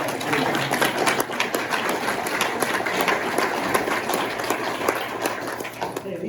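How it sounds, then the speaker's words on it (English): Audience applause during a retirement speech, dense continuous clapping from a room full of people with murmured voices underneath, fading out near the end. "Give these guys a round of applause."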